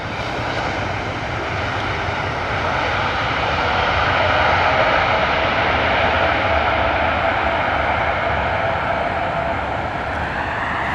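A JetBlue Airbus A321neo arriving from JFK roars past at London Heathrow, a loud, broad jet engine rush that swells toward the middle and then slowly eases, with no voices over it.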